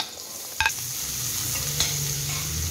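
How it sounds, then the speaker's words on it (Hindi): Onions fry in a pan with a constant soft sizzle, and a utensil clinks briefly against the pan near the start. "अब प्याज डाल देते हैं।"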